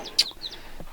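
A broody hen clucks softly close by among her chicks, with short high chirps mixed in, at a homestead high in the Wyoming mountains in early spring.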